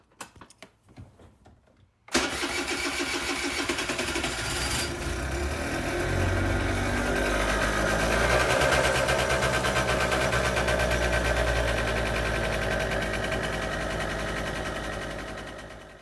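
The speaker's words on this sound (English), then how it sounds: "This sound brings me back to my days of visiting Italy and hearing the Vespas driving around." A Vespa scooter engine on an Italian street catches after a quiet, fumbling start, then runs steadily with a loud, buzzy two-stroke putter that builds slightly and holds before easing off at the end.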